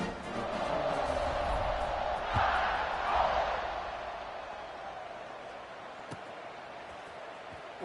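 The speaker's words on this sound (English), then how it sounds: "this crowd is buzzing after that last score" During a Alabama vs Tennessee college football game, a stadium crowd roars after a score, a steady distant wash of voices that swells briefly, with one sharp knock near the end.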